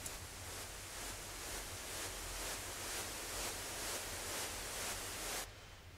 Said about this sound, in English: There's only one sweep up sound effects.